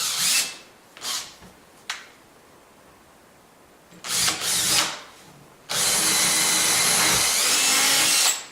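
A power drill bores a through hole in a wooden shelf in a few short bursts, then runs in one long, steady grinding stretch, loud and close.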